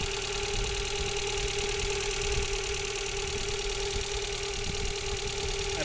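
Car engine running steadily after a new alternator and belt were fitted, a continuous close mechanical hum with a faint knocking, ticking texture and steady whine, no voices.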